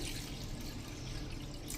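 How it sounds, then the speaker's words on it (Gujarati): About 500 ml of water is poured onto washed urad dal in a bowl for soaking, a steady close splashing pour lasting under two seconds with no voices. "હવે આમાં આપણે 500 ml પાણી નાખશું"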